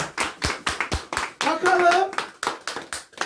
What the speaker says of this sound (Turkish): Alkışlayalım. Alkışlar zayıf. Alkış güçlü olsun.